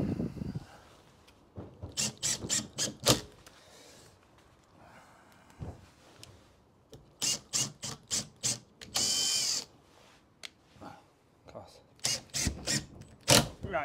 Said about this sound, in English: Just get that screw in there.